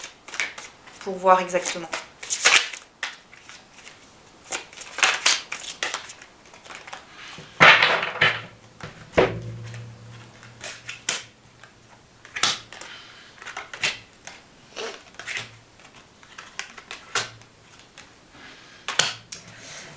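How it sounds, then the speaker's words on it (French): Tarot cards are shuffled and drawn in bursts of crisp flicks, riffles and sharp snaps between pauses, under someone speaking French. "On va tirer d'autres cartes"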